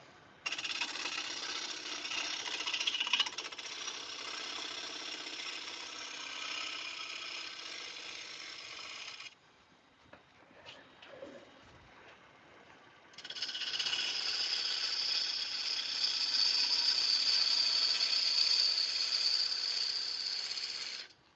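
A sharp gouge cuts into a wooden bowl spinning on a lathe, giving a steady, bright hissing shear that runs for several seconds, pauses with a few light knocks, then resumes just as strongly.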